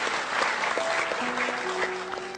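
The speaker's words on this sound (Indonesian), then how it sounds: "Tepuk tangan semuanya, tepuk tangan." An audience at an Islamic religious gathering claps together in sustained, even applause. Dense and close, it runs the full length without pause, while a faint tonal hum lingers in the background.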